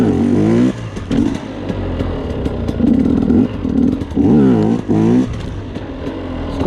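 A Husqvarna 250 TE enduro motorcycle engine revs repeatedly nearby, rising and falling in sharp bursts with brief pauses and clattering mechanical noise between throttle blips.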